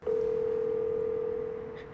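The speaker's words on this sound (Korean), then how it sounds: "잠깐 내가 번호를 해놨는데 전화해볼까?" A mobile phone call rings out with a single steady tone, loud and close, holding for about a second and a half before slowly fading, with no talk over it.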